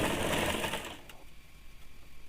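A sewing machine runs a short stitching burst on a woolen baby frock, a dense whirring buzz for about a second that cuts off abruptly, leaving faint clicks and handling sounds.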